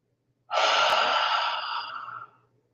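A single long exhale during a breathing exercise, a breathy airy rush that starts abruptly and tapers off over about two seconds, close and alone.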